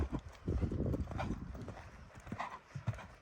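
Horse hooves cantering during riding training at the London International Horse Show, a steady rhythmic run of close, thudding beats over a soft arena background.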